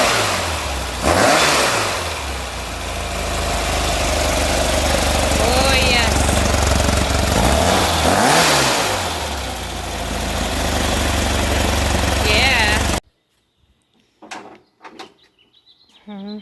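Loud engine revving in repeated surging bursts, with long roaring swells that rise and fall close by, then cutting off to quieter scattered sounds near the end.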